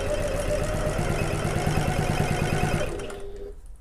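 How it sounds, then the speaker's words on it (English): A sewing machine runs steadily, stitching back and forth across the seam of a bag; a continuous close mechanical whirr with rapid needle pulses, then winding down and stopping near the end. "I am going to back stitch a little bit at the bottom and at the top"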